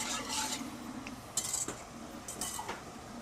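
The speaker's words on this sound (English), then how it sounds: "we're giving our liquid a stir" Pickling liquid for quail eggs is stirred in a pot on the stove, with soft scraping and light metallic clinks of a utensil against the pot over a quiet background hiss.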